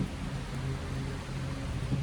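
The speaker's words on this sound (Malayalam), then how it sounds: "മഴ ചാറുന്നുണ്ട്" A soft, steady patter of light rain fills the air, even and continuous with no voices.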